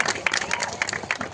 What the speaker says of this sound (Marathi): एकदा राजेश मालकांसाठी जोरदार टाळ्या करा,